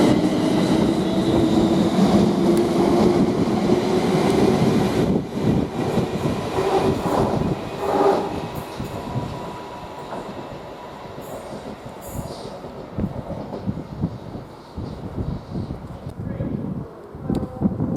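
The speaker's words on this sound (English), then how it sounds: "Now we've got this London Northwestern Railway now departing from Birmingham Street to London Euston" A London Northwestern Railway Class 350 train pulls out of Coventry station with a loud rumble and rolling wheel noise that slowly fade as it leaves, while a person talks over it.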